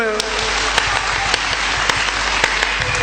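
An audience at a Hindi poetry reading claps in a steady wash, with a few sharper claps standing out above a low background hum, continuing without pause.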